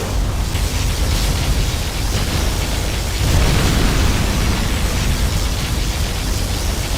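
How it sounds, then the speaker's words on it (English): Particle cannon blasts and explosions from Command & Conquer Generals fill the scene as a dense, continuous rumbling roar that swells louder about halfway through, with no voices. "Particle cannon activated."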